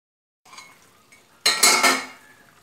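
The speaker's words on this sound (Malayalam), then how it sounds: "അപ്പോൾ നമുക്കിപ്പോൾ തൽക്കാലം ഇതൊന്ന് മൂടി വയ്ക്കാം." A lid set onto a cooking pot of green mango curry: a soft metallic scrape, then a louder clattering clank of metal on metal that rings and fades.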